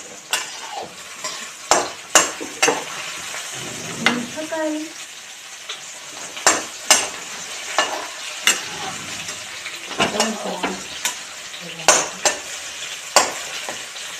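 Cumin seeds roasting in a pan crackle and sizzle up close while a utensil scrapes and taps the pan in repeated sharp strokes, with a brief murmur of voice partway through.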